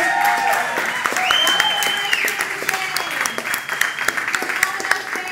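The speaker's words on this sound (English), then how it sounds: "I want to hear like the loudest applause of the day right now" Audience applause at a developer conference, loud sustained clapping from a large crowd with a few whistles and cheers, filling the hall continuously.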